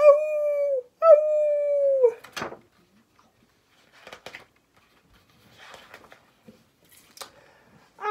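A human voice imitating a hound dog's howl, two long sung "awoo" calls in a children's barnyard song, followed by scattered faint rustles and clicks.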